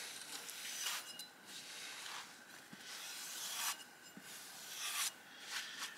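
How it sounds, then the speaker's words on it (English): A modified bolo machete blade stroked along the fibers of an animal hide to polish its edge, a close, steady rasping rub repeated in several long strokes with brief pauses, alone without talk. "use the fibers of the hide in conjunction with that blade, almost like a fine grit sandpaper, to really polish that edge up"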